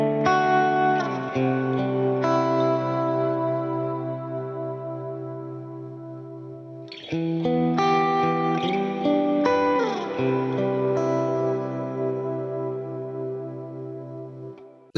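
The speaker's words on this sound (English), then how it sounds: "Now I could go the other way and turn this right up, and the maximum's 10 seconds and it sounds like this." An electric guitar runs through a reverb pedal turned up to its maximum ten-second decay. Chords and notes sustain in a long, washing tail that barely fades before the next strum, played close with no talking.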